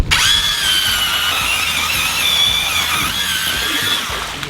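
A power ice auger drills through thick lake ice: a steady, loud, whining motor with a grinding squeal, continuous throughout.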